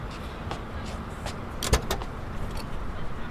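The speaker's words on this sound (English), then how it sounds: "What an amazing car. A limousine?" A limousine in the anime Death Note: an idling car with a door thudding shut midway and faint clicks and rustles over a steady low rumble, mixed under background noise.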